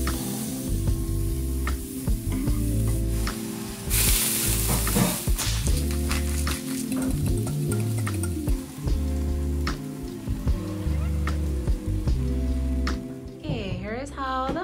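A mushroom and spinach omelet sizzles and fries in a pan, with steady crackling and stirring scrapes close by, while people talk over the cooking throughout.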